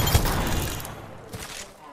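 Gunfire in the online battle game Apex Legends, a dense rattling burst at the start fading into further shots and game noise, with a character voice speaking over it.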